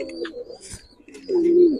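Giribaz pigeons in a loft give soft, low coos, a short murmuring call early on and a clearer, louder drawn-out coo near the end, with faint bird chirps in the background.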